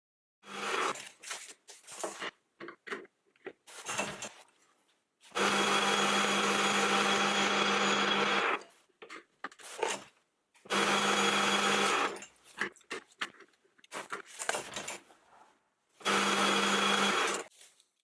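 A metal lathe takes a light skim cut on a flange, running in three steady loud bursts of several seconds each, separated by quieter gaps with short clicks and handling noises.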